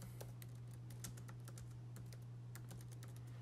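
Steady keystrokes as text is typed on a computer keyboard, a quick irregular run of clicks over a constant low electrical hum, fairly quiet with no voices.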